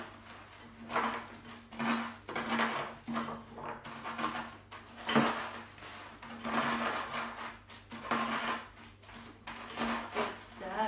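A spoon stirs a smooth mixture in a bowl with rhythmic scraping and clinking, repeated strokes close by, with a faint steady hum underneath.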